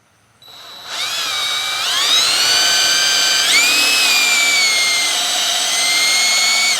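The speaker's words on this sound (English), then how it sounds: "you drill until you get to this little stopper on here" A power drill whirs loudly and steadily for several seconds, its pitch rising as it spins up and bites into wood while boring a pocket hole, close by.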